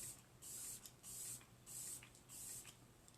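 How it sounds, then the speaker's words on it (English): Makeup setting spray misted lightly over primer in four quick, soft hissing bursts at an even rhythm, faint and close, with quiet gaps between each spritz. "take your setting spray, and then you are just going to lightly mist it"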